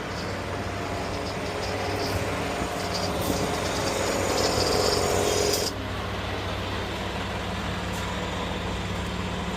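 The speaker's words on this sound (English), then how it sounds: "we could also go ahead and turn the compressor off on the tank" An air compressor on a tanker truck runs as a steady, loud mechanical drone with a constant hum, then drops to a quieter, lower rumble partway through as it shuts off.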